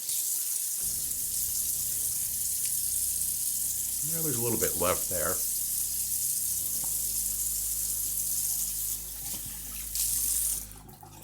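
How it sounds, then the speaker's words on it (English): Cold water running from a bathroom tap while a safety razor is rinsed, a continuous loud hiss with splashing, someone briefly speaking partway through, then the flow surging louder near the end. "All right, I'm going to switch to cold water."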